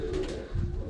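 Domestic pigeons coo in a low, soft, throaty warble, close by and steady over about a second, with faint background noise and no voices.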